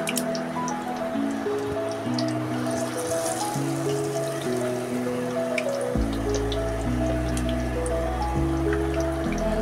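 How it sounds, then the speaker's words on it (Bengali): Eggplant fritters (beguni) fry in hot oil, giving a continuous crackling, sputtering sizzle with scattered pops, fairly close and steady under a low background hum, with no talking. "তো আমার বেগুনিগুলো সুন্দর করে ভেজে নিচ্ছি"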